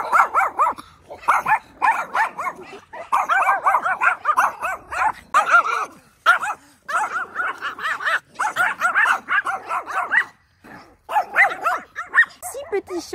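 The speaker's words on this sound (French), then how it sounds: "Petit chien spitz." A small Spitz dog barks and yaps repeatedly in short bursts, close by, with high whining tones between barks and a voice talking intermittently.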